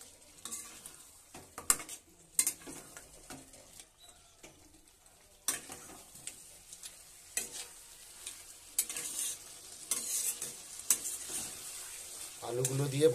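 Fried potatoes being stirred and sautéed into a chicken curry, with irregular spatula scrapes and knocks against the pan over a sizzle that grows louder toward the end.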